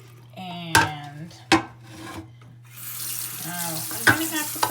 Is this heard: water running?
yes